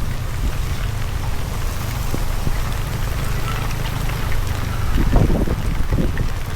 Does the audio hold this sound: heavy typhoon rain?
yes